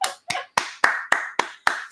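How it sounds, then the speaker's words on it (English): Eight sharp, evenly spaced hand claps from a single person, close and loud, counted out in a quick steady rhythm with no talking. "Give it 10 seconds of applause for Yaz and her selflessness."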